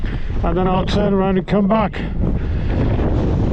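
Strong wind buffets the microphone on an exposed hillside about 410 meters above sea level, a steady loud rumble throughout, with someone talking over it in the first half.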